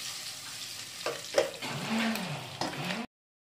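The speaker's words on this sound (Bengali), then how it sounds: "এখন আমি আলু আর ডিমগুলো ভেজে নেব" Potatoes and eggs coated in salt and turmeric fry together in hot oil, giving a close, steady sizzle with a few sharp spatters and stirring scrapes before cutting off abruptly.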